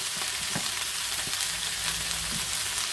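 Rabbit pieces fry in a little oil in a pan for mustard rabbit, a continuous close sizzle with a few spatula scrapes and knocks as the meat is turned.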